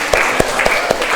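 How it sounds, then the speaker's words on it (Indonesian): Students in a classroom give a short round of applause, with a few distinct claps standing out over a dense, steady wash of clapping. "Tepuk tangan buat kalian hari ini"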